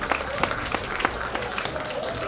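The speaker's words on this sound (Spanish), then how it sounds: "Aplauso, por Doña Rosita" Audience applause at a public launch event in El Salvador, a brief wash of clapping with scattered sharper claps standing out, moderately loud, with voices mixed in underneath.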